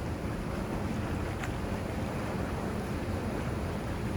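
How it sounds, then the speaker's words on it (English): Steady, broad rushing noise of water pouring over the Waiakea Spillway, constant and full throughout, with some wind buffeting and no voices. "This is about the closest that I've got to moving water"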